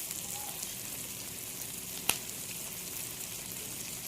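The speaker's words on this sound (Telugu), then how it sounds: "టమాటా చక్కగా ఉడికిపోతుంది అన్నమాట, ఈ ఆయిల్లోనే ఉడకాలి" Chopped tomatoes sizzle quietly in a little oil in a pan over medium flame, a faint, even frying hiss with one brief clack partway through and no voices.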